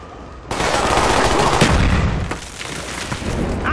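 Dense gunfire and booming blasts from a Call of Duty: Black Ops battle in Hong Kong, loud and continuous after a sudden onset, with a heavy thump mid-clip where a thrown grenade fits, then steady rattling shots continuing.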